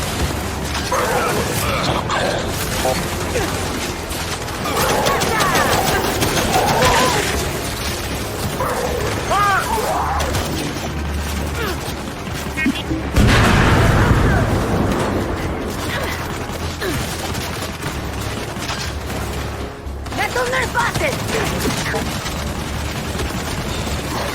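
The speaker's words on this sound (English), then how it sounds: "We're pinned down! We can't deal with those turrets!" Turret gunfire in Gears 5 combat rattles and booms throughout a long, loud stretch, dense mechanical bursts and heavy impacts under shouting voices.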